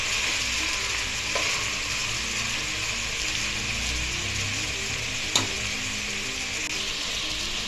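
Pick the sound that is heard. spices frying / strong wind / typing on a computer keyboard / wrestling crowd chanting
spices frying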